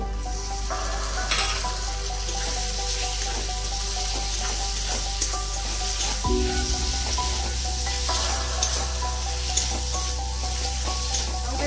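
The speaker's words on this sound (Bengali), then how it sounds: "তো ভালো করে কষিয়ে নেব লঙ্কা হলুদটাকে এর মধ্যে টমেটো কুচানোগুলো দিয়ে দেবো" Chili and turmeric frying with chopped tomatoes for a bhetki fish curry, a loud continuous sizzle with stirring scrapes and a low steady hum beneath, no voices.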